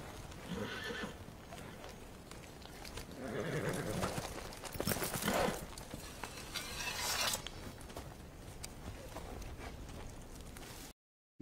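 Horses whinny and hooves clop in a fantasy TV drama scene, loud neighs rising over a busy soundtrack for several seconds before the sound cuts to silence.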